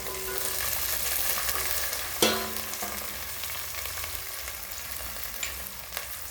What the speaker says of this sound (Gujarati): અને થોડી વાર આપણે ગવાર તેલમાં શેકાવા દઈશું.